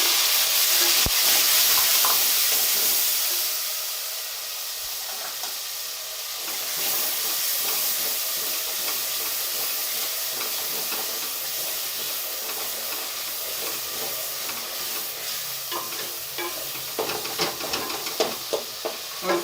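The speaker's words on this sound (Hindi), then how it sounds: "अब इसमें टमाटर डाल देंगे। 3 अदद बड़े कटे हुए टमाटर।" Chopped tomatoes hit hot oil with browned garlic in a pan for a chicken and bitter gourd curry. A steady, loud sizzling hiss continues throughout, with occasional light stirring clicks.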